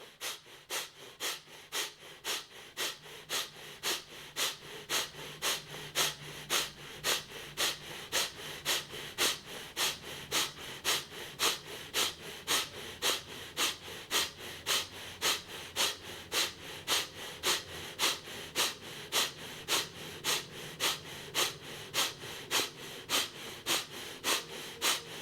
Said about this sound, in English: begin the breath of fire.